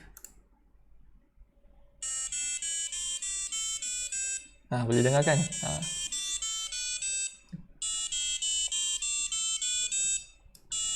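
A buzzer on a Maker Pi Pico board plays do-re-mi notes as a sequence of bright, evenly spaced tones. A person speaks briefly over it partway through, then the tone melody continues.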